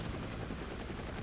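A helicopter in the video game Battlefield RedSec gives off a brief, faint, steady rotor thrum in the distance.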